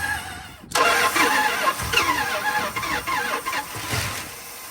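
A 1970 Dodge D100 with a 383 big block V8 cranks and catches, then runs roughly at mid pitch with uneven revving for several seconds, close and fairly loud.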